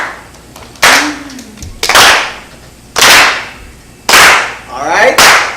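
A church congregation claps in unison, five loud, sharp, widely spaced claps with a short vocal sound between the first two.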